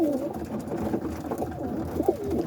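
Roller pigeons in a loft coo in soft, overlapping low calls, close by and steady throughout.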